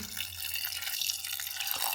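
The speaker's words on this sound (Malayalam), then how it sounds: "കുറച്ചും കൂടി വെള്ളം ചേർക്കാം" Water pours steadily into a pressure cooker holding soaked green gram, a continuous close splashing rush, with a faint knock near the end.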